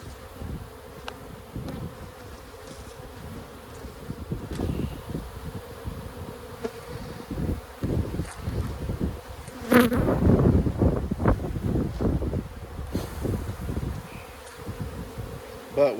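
Bees buzz steadily around an abandoned beehive, a dense close hum of many insects that swells louder and busier midway before settling back to a constant drone, with no talking.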